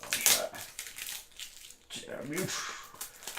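Plastic packaging crinkling and crackling while unboxing a special edition of Metroid II Samus Returns for 3DS, close and brisk in short bursts, with someone talking between them.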